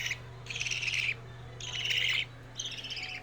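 Young parakeet chicks cry while being hand fed with a mini syringe. Three drawn-out, raspy calls rise and fall in bursts, fairly close but soft, over a low steady hum.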